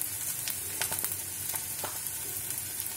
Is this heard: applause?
no